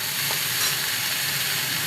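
Fresh spinach hits a hot pan of frying onions and sizzles in a steady, close hiss that lasts about two seconds with no talking.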